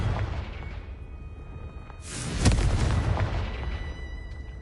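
Confringo blasting spell in Hogwarts Legacy goes off as a loud, deep boom that swells and rumbles away over a couple of seconds, with no voices.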